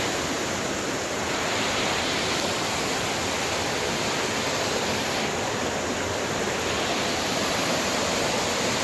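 River water rushing steadily beside a waterfall on Maui, a dense, continuous broadband roar that stays loud and close throughout with no voices.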